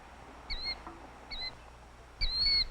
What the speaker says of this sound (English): Similar in size is the killdeer, named for its loud, clear call.